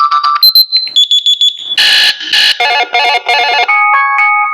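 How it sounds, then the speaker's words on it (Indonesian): An Osaka TX-POC Q8 handheld radio plays a run of loud electronic alarm tones close by, with beeping, warbling and stepped patterns changing every second or so and no talk. "Ini mungkin alarm-alarmnya ya."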